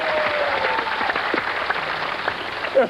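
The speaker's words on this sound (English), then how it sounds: "Why is the audience cheering?" A game-show studio audience applauds and cheers steadily at moderate loudness, with a few brief whoops and a short voice near the end.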